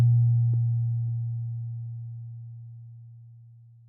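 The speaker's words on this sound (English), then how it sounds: "By adjusting the tension of the springs, you can tune the system to a specific musical note." A single low, pure synthesized tone from the Anukari spring-mass physics synthesizer, tuned by spring tension, sounds alone with two faint clicks near the start and fades away steadily over a few seconds.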